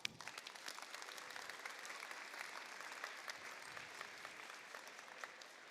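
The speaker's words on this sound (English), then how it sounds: "So one last big round of applause." A large audience at a FIRST robotics district event gives a long round of applause, a steady crackling wash of many hands clapping at moderate distance, sustained evenly throughout.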